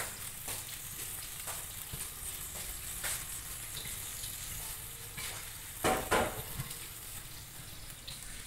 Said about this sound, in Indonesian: Lagi menggoreng guys, masih lagi menggoreng, saya menggoreng lagi guys.